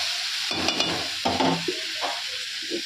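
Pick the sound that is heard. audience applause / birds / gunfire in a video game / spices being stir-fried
spices being stir-fried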